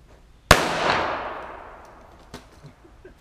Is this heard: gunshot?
yes